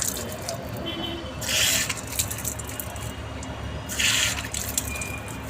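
Water gushing from a push-operated wudu tap, a steady running stream with two louder splashing bursts as it is pushed open, with soft talk in the background.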